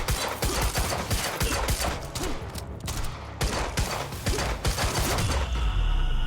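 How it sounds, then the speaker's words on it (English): Dense gunfire in the Quantum Break video game, rapid overlapping shots and bursts with clanking mechanical sounds, loud and close and nearly continuous, with no speech. "And stop fucking shooting at us!"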